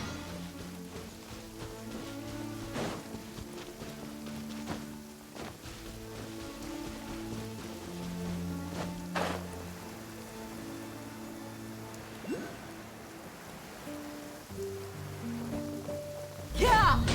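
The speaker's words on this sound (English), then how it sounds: "it does actually rain in the desert on occasion" Rain falls steadily over a desert in a video game, an even patter lasting about seventeen seconds beneath sustained background music.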